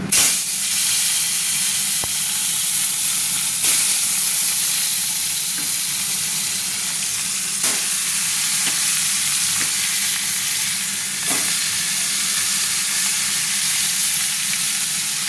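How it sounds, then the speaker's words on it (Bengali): Pieces of fish, including a head cut in two, a steak and a tail, sizzle in hot oil in a pan. The frying makes a continuous close hiss with occasional sharp crackles, and no one speaks. "তো আমি মাছগুলোকে আস্তে আস্তে ছেড়ে দিচ্ছি"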